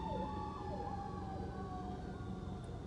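A fire truck siren wails with rising and falling sweeps, heard from inside a moving car over steady road and engine rumble.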